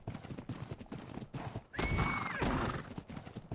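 Horses in the Ark Survival Evolved video game neigh and clop along, steady hoofbeats thudding rhythmically with one loud whinny in the middle, fairly close.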